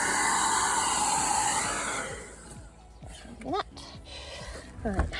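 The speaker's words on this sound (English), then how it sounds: "we've left a little bit of extra time to use the hairdryer" A hair dryer blows on a frozen back door to defrost it, giving a steady, close whooshing hiss for about two seconds. The noise then drops away, and people talk afterward.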